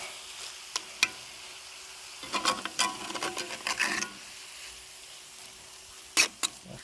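Smoked sloppy joe mixture being stirred in a pot, giving scattered scraping and clinking clicks with a short busy burst of stirring noise over a faint steady sizzle, close and fairly quiet.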